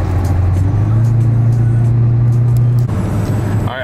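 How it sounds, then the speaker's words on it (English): A supercharged Dodge Hellcat on a dyno roars loud and close, holding a steady high-rpm drone with supercharger whine before the tone drops as the throttle lets off near the end, with no speech. "You always kind of hear the supercharger a little bit."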